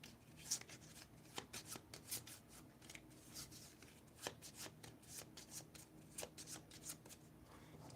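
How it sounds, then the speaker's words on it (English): A deck of playing cards shuffled by hand during a Regicide card game, a quiet run of rapid riffling flutters and soft slaps repeating over several seconds, close and alone without talk. "shuffle it up"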